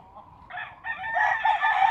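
A rooster, wounded in an attack it fought off, crows close by: a single drawn-out cock-a-doodle-doo that swells partway through and holds strong to the end, with no other sounds.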